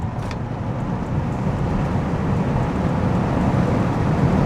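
Steady low rumble of a 2004 V8 car driving, heard through an open window with wind buffeting, engine note smooth and refined rather than loud, building slightly toward the end.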